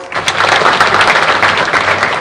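A large crowd at a Kisumu investment conference breaks into dense, loud, continuous applause that stays steady throughout.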